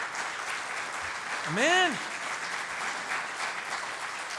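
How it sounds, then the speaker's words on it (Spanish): Church congregation applause at a worship service, a steady wash of clapping throughout, with a voice briefly calling out over it midway. "denle una ofrenda de palmas al Señor"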